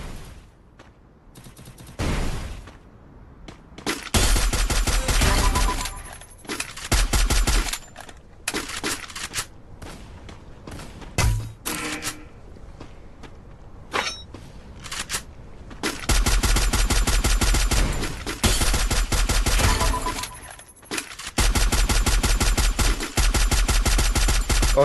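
Rapid bursts of automatic fire from a battle-royale squad shooter game, loud and repeated in clusters with brief gaps, some volleys sustained for several seconds.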